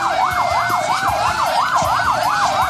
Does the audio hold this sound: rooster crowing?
no